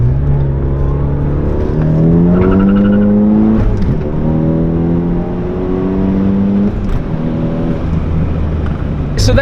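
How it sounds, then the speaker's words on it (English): A Dodge Dakota accelerates hard with traction control off, its engine revving up through rising pitch in loud, close sweeps, with brief breaks as gears are flat-foot shifted, and the climb resumes each time. "So I'll give you guys a little flat foot shift here in a sec."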